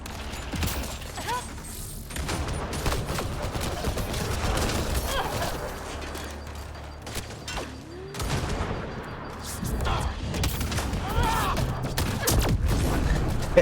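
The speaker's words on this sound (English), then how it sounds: "Why are you shooting at me?" Gunfire in the sci-fi shooter game Mass Effect Andromeda, a steady mechanical clatter of shots running throughout amid busy combat noise, with faint voices now and then.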